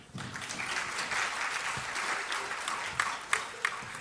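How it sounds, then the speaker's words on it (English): Warm applause from a conference audience welcoming a keynote speaker, rising quickly into a sustained, even clatter of many hands, moderately distant, with a few sharper individual claps near the end. "please give a warm round of applause to Professor Eatman."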